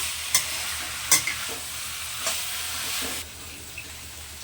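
Raw jackfruit and fried prawns stirred in a hot pan, a few sharp scrapes of the spatula over a steady soft sizzle, close and fairly quiet.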